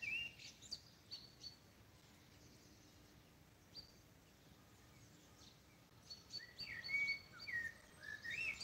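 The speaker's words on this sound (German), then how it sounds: "Das freut mich total, dass die Vögel so gut zu hören sind." Several birds sing outdoors on a live field excursion in a peaceful valley, including a chiffchaff, with bright chirps and trills scattered over quiet ambient background, busier and louder toward the end.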